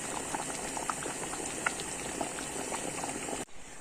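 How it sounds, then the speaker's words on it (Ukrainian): Crucian carp stew boils hard in a pot, a close, dense and steady bubbling with scattered pops that runs without a break and then cuts off sharply near the end. "Наша рибка закипіла, збавляємо вогонь на маленький і тушимо хвилин 20."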